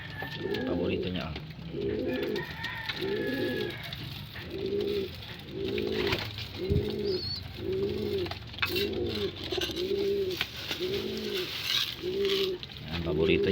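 Racing pigeons coo in a steady repeating rhythm, about a dozen evenly spaced calls, close and clear while feeding on sunflower seeds, with someone speaking quietly in the background.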